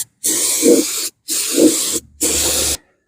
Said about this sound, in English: Now I like spraying because you can get inside the cracks and crevices